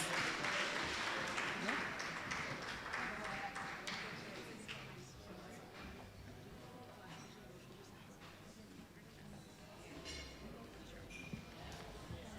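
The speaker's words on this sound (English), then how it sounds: "Let us give Ms. Judith Wilson a hearty round of applause." Diners at a teachers' union retirees dinner in a hotel in Castries give Ms. Judith Wilson a hearty round of applause, clapping strongest at first and then settling into a softer, steady patter with faint talk underneath.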